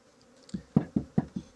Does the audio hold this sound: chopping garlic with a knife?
no